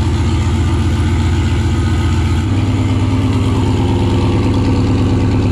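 A turbocharged Corvette running a truck engine roars on a dyno, holding a loud, steady drone before the pitch climbs midway as the revs rise, close and unbroken with no talk.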